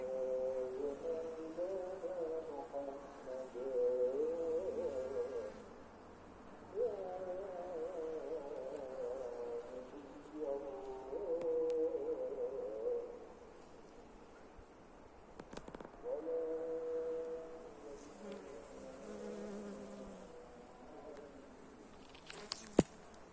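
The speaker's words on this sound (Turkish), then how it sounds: "gördüğünüz gibi arılar adeta saldırıyorlar" Bees buzz continuously around the blossoms, a droning hum that swells and fades in waves, fairly close, with no voices.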